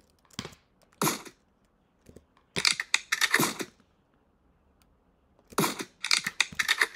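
Gunfire in the online video game Entry Point: several sharp shots in short clusters, with quiet gaps between the bursts.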